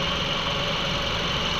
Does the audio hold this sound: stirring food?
no